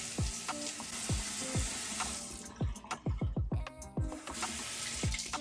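A bathroom tap runs while someone wets their face at the sink, with a continuous splashing stream broken by irregular handfuls of water hitting skin and basin, close and moderately loud.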